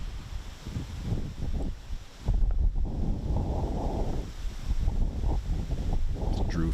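Steady wind buffeting outdoors on a golf course, a broad rushing roar with gusts that strengthen partway through, fairly faint and continuous, with no clear talking.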